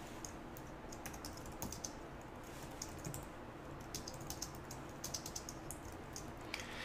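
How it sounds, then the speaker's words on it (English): Steady, rapid keyboard typing with crisp key clicks throughout, fairly quiet and close, no voices. "I'm going to start typing some new code in here"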